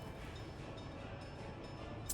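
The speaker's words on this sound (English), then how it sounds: "There's our train." A train rolling through a Workers and Resources rail loop, a steady low rumble held at an even level throughout, with a brief brighter click near the end.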